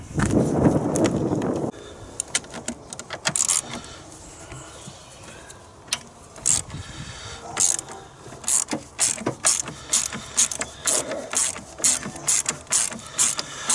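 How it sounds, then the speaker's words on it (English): A ratchet loosens the battery retaining bolt on a C5 Corvette, making close, crisp, rapid clicking bursts in a steady rhythm, with a louder rustle at the start. "there's a retaining bolt, so I'm just going to get a ratchet and pop that off"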